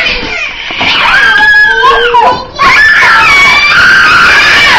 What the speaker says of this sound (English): we can't watch the movie if you're going to keep screaming